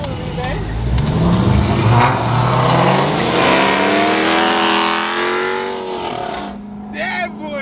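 A 2007 Chrysler 300C pulls away with a rising engine roar, the pitch climbing steadily as it accelerates and then easing off, while someone talks over it throughout.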